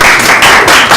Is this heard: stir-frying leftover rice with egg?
no